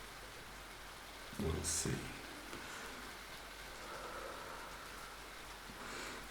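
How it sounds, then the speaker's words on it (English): Steady soft rain falls through a quiet night, a continuous gentle patter and hiss that runs the whole way, briefly covered by a few quiet spoken words. "Such a rainy night."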